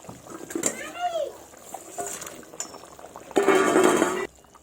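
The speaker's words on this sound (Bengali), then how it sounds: "এবার ভেজে রাখা মাছগুলো ঝোলের মধ্যে দিয়ে দেব।" Fried fish pieces slide into a simmering cauliflower, tomato and potato fish broth, giving a brief soft splash and clink, followed by a louder bubbling sizzle near the end.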